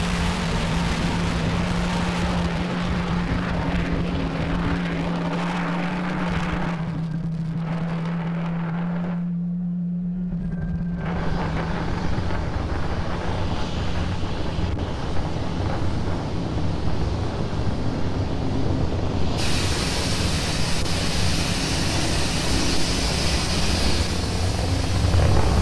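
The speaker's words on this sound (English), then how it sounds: "Falcon 9 has had a successful liftoff from Pad 39A." SpaceX Falcon 9 rocket engines during launch ascent from Pad 39A, a continuous deep rumbling roar with wind-buffeted noise, sustained and moderately loud throughout.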